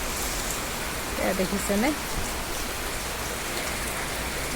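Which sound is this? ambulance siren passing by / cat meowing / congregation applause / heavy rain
heavy rain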